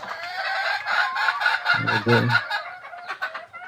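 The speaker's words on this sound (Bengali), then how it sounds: "দেখেন, এখন দেশি মুরগিগুলো" Native Bangladeshi chickens cluck and call close by in a busy overlapping chorus, with one louder, fuller call midway.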